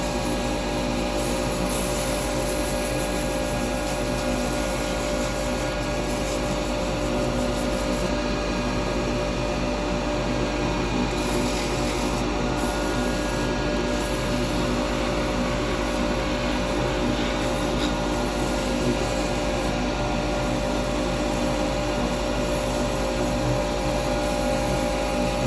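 Steady loud whirring of a lathe with continuous sanding friction against spinning wood, unbroken for the whole stretch, no talking.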